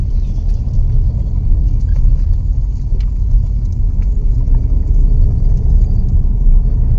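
A vehicle drives along a rough unpaved dirt road in Keonjhar, giving a continuous low engine rumble with a dense mix of jolts and rattles throughout, close and fairly loud, with no one speaking.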